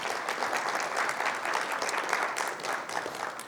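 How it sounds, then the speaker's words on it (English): Steady applause from a conference audience at the launch of a global coalition, dense and even clapping filling the room throughout with no talk over it. "give yourself a round of applause for coming all the way here"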